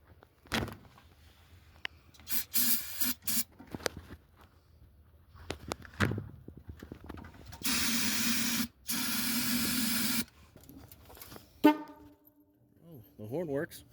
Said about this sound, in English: I'm gonna spray fuel down on the carbs and see what happens.